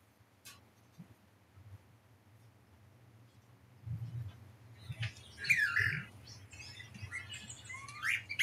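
Snowy plover calls played from a phone speaker come as a cluster of short, thin chirps and squawky notes in the second half, fairly faint against a low indoor hum.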